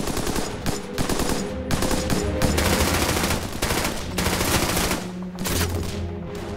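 Sustained machine-gun fire in a World War II battle scene in the Hürtgen Forest: dense, rapid bursts of loud gunshots hammering almost continuously, with brief gaps between volleys and no speech.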